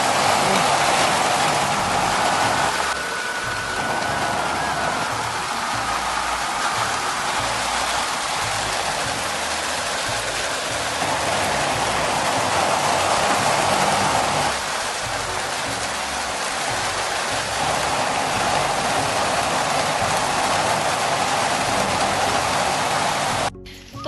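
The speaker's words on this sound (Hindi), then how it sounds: "तेज़ बारिश आ गई है" Heavy rain pours down steadily outdoors near farm fields under a clouded sky, a dense, loud, continuous hiss that holds for the whole stretch with no voices over it.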